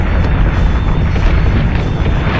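Ship batteries in the space combat game Battlestar Galactica Deadlock fire as a loud, continuous rumble of booms with no clear gaps.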